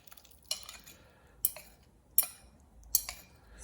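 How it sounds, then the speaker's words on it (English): A spoon stirs a nuruk and yeast mixture into cooled sorghum porridge for makgeolli, giving four spaced, sharp scraping clinks against the pot over a quiet background. "now I'm going to mix in my NURUK mixture"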